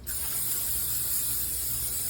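Cooking spray hisses steadily onto a hot crepe pan, a close continuous spray lasting about two seconds with no talk over it.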